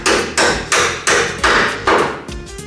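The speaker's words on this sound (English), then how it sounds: "I got to take a hammer and tap the bolts out." A hammer taps bolts out of the motor mounts of a 1941 Willys Coupe, five loud, close metallic strikes at a steady, even pace, each ringing briefly, with no talk.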